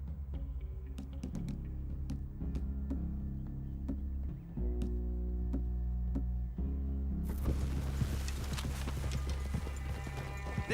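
Horse hooves clip-clop steadily in Red Dead Redemption 2, a continuous rhythmic patter of several horses close by, with game ambience and a brief shift in the background partway through.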